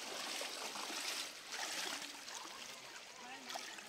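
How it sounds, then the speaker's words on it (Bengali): Floodwater pouring across a submerged village road in rural Bengal beside flooded rice paddies, a soft continuous rushing and trickling of water, fairly faint and steady, with a faint voice in the background. "এখানে এই রাস্তার উপর দিয়ে জল চলে যাচ্ছে, এত জল।"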